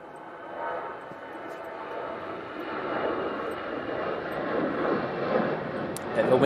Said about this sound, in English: On the runway, we have an EasyJet to Paris Charles de Gaulle on the roll.